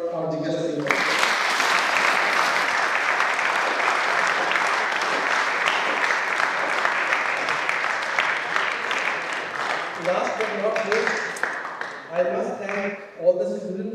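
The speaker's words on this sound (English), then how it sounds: "So have a clap for our Jigyasa team." Auditorium audience at a National Science Day event applauding the organising team, sustained dense clapping that thins out near the end as a few voices begin talking over the last scattered claps.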